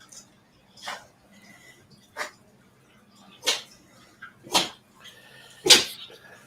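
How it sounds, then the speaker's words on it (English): A dog makes odd, strange noises: about five short, breathy snorting bursts spaced a second or so apart, the last one the loudest, in a quiet indoor room with a low background hum. "That's the dog making some weird noise."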